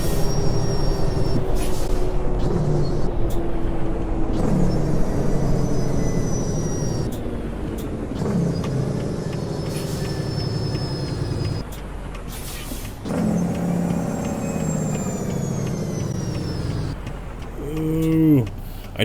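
A Peterbilt 379 truck in American Truck Simulator slows for an exit, its loud steady engine drone falling in pitch, with brake hisses and a short burst near the end.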